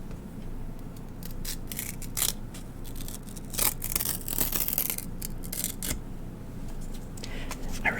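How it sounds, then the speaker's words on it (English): A single piece of paper handled up close, giving dry crinkling, rustling and rubbing in irregular bursts with a few sharper crackles, moderately loud with no talking. "just a piece of paper."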